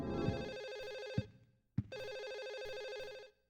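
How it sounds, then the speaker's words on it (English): In the video game Silent Hill 4, a telephone rings in bright electronic bursts: one long ring, a short pause, then a second long ring. It is loud, clear and alone, with no talking. "that phone is going to keep ringing until we find the apartment with the phone in it"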